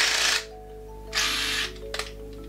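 An IKEA FIXA 7.2V cordless screwdriver fires two short, loud bursts, its clutch ratcheting while it works in a pre-drilled hole. A couple of quick clicks follow, and a steady low hum runs beneath.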